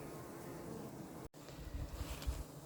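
Honey bees buzzing around a mated queen released onto the comb, a faint steady hum close by with a brief dropout and some wind noise on the microphone.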